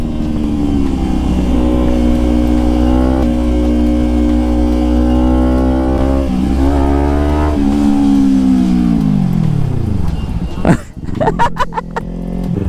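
Kawasaki Ninja ZX-10R motorcycle engine in race mode, a loud sustained drone with rising and falling pitch, winding down around ten seconds before sharp bursts of revving, with talk underneath.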